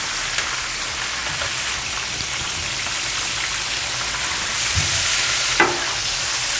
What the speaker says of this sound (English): then today I'm searing it again in the pan with beef fat